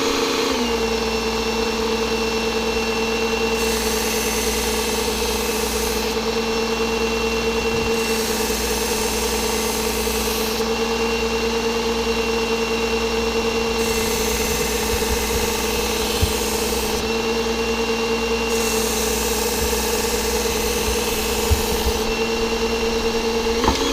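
A WorkSharp belt sharpener grinds a knife edge with a loud, constant motorized whine and belt rasp, and the pitch shifts slightly as the blade passes over the belt, with no voices.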